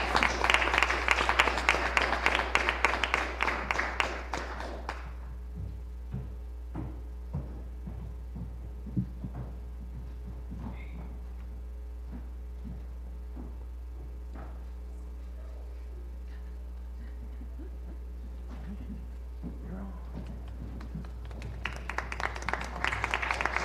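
Award-ceremony crowd applauding, a broad wash of clapping at the start that drops away into near silence with low hum, then returns near the end.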